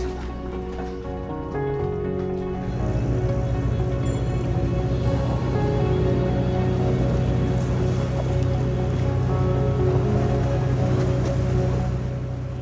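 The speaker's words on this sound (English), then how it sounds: "We are at the riverside and we're finally going to go on the boat." Boat under way on the Mekong River in Vietnam, a steady low engine drone with water rushing and splashing along the hull, growing fuller after the first few seconds and continuing without voices.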